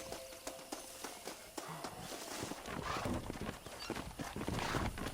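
Video game hooves clip-clop in a steady rhythm on hard ground, a faint trotting horse or two pulling a stagecoach, with quiet talk underneath, from Red Dead Redemption 2.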